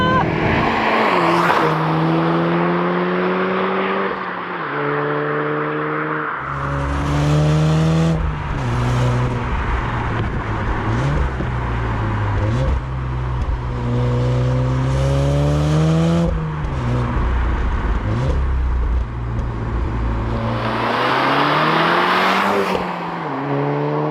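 A manual MK7 Volkswagen Golf R pulls through its gears from inside the cabin, the engine revving up and dropping back with each shift, loud and continuous over about twenty-four seconds.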